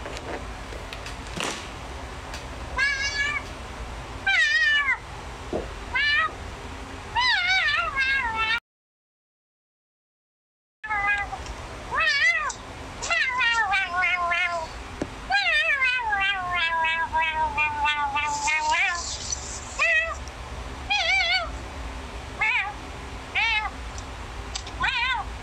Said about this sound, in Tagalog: Gusto mo mag-meow?